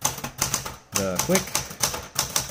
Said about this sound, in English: let's do just a real quick two-finger typing test